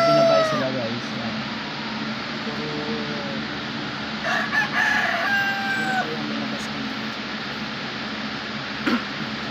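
Chickens and roosters at a backyard breeder's yard, including offspring of a broodcock, give clucks and crowing calls over a steady outdoor background, with a person talking at times.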